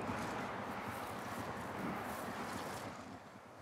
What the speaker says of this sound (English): kind of a white noise which is moving all the time.